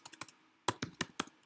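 Keys clacking on a computer keyboard as a command is typed: two quick bursts of sharp, close clicks, about four strokes each with a short pause between, and no talk.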